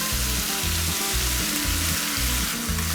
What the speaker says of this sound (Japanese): でもうちょっとしんなりするまで炒めましょう